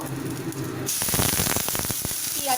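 Chopped green chilli and onion hit a spoonful of hot oil with a sudden hiss, then a steady crackling sizzle with quick pops that lasts a couple of seconds, close and fairly loud.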